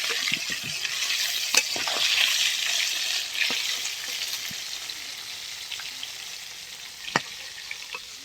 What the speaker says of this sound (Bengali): কতটা তেল বেরিয়েছে দেখি মাছটা ভাজা হয়ে গেছে তুলে নেব এখন